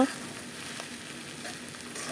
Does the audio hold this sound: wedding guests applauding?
no